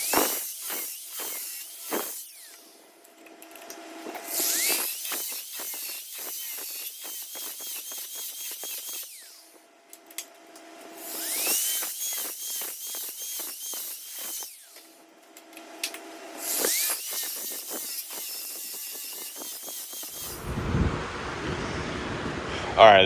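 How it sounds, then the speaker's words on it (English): A surface conditioning wheel runs against a steel headache rack in bursts, a steady high whirring grind repeated three times with pauses between, a person's voice around it and a louder clatter at the end. "we're gonna use this surface conditioner and we're gonna give it a even finish all the way around"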